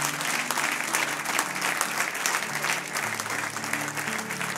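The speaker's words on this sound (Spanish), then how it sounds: "Denle un aplauso a Él." A church congregation claps at a Sunday service, dense continuous applause filling the room for several seconds at an even level, with faint voices and a sustained tone beneath it.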